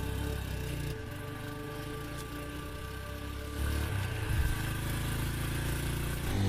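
A motorbike engine runs steadily in a Hindi movie scene, a continuous low mid-pitched hum with a slight rise in intensity partway through, heard alone without talk.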